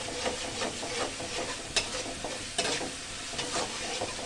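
Spice masala being sautéed for a catla fish curry: a steady close-up sizzle in the pan, broken by scattered spatula scrapes and sharp clinks against the metal, with no voices.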